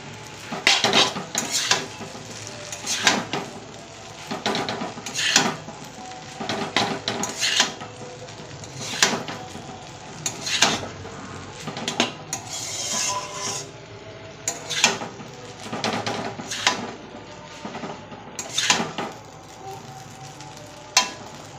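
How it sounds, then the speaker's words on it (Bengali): Chow mein noodles with soy sauce are stirred in a pan, with repeated metal utensil clanks and scrapes in an uneven rhythm, close and fairly loud over a low sizzle, with no talking. "ভালো করে নাড়িয়ে নিতে হবে।"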